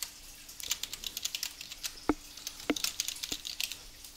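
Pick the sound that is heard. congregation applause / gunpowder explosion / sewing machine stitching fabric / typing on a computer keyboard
typing on a computer keyboard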